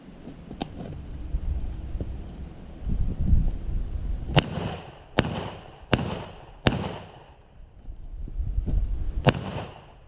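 Shots fired from a Panzer AK12 shotgun outdoors, with several sharp, loud reports, one early, then a quick series of four and a final blast, each trailing off over a rumbling background.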